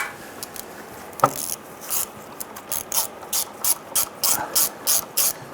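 A ratchet drives bolts into the valve body of a 2005-2010 Chrysler 300 transmission, starting with scattered clicks, then settling into a rapid series of short, crisp ratcheting bursts at close range.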